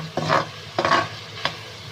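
Chicken pieces frying and being stirred in a pan, cooking for chow mein, with three scraping bursts of stirring over a steady low sizzle, close and with no talking.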